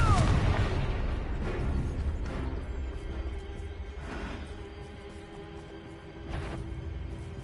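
A fire blast spell in the Hogwarts Legacy video game goes off with a loud booming burst and a sharp crack, followed by further thuds and rumbling blasts as it fades.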